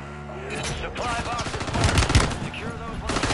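Gunfire in Call of Duty: a dense, busy burst of shots and impacts that builds toward the middle, layered with other game effects and no talk.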